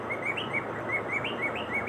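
Pet breeder birds chirp in quick repeated tweets close by, a busy overlapping cluster of calls over a faint background hum.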